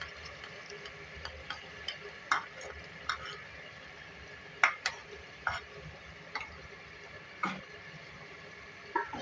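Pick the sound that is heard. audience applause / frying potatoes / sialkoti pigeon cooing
frying potatoes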